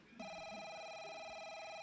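A telephone rings steadily with a continuous electronic warble, starting abruptly and holding at even loudness with nobody speaking.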